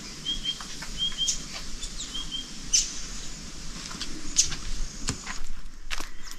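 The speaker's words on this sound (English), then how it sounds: "I can hear lots of different types of birds." Several birds chirp and tweet at a distance in an outdoor setting, with soft rustling and footsteps nearby.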